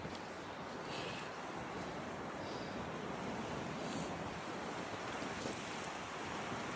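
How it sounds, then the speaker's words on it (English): Wind blowing steadily across an exposed, unsheltered trail on a snowy day, a constant loud roar with microphone buffeting that never lets up, with no voices. "Current conditions, windy, not sheltered."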